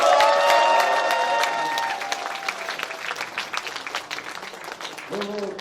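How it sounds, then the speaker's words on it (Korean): An audience at a Democratic Party members' education session in Incheon breaks into warm applause, dense and loud at first, then thinning into scattered claps with some crowd murmur and a brief voice near the end. "뜨거운 박수 완전 부탁드립니다"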